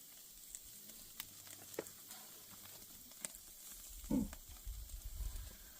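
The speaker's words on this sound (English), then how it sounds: "Right now what we're doing is we're searing" Meat searing on a Weber grill outdoors at a farm: a faint, steady sizzle with scattered small pops and a louder rustling bump near the end, with no voices.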